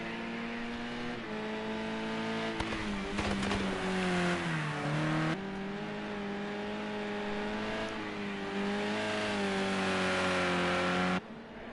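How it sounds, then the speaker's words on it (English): Race-car engines droning steadily in Assetto Corsa Competizione, with harmonic revving that rises and falls through gear changes and corners on the Brno circuit in the Czech Republic. The sound stays loud and continuous, with no talk. "At the minute we have ACC running on as well, so all sorts of action-packed racing going on here at Motive Racing."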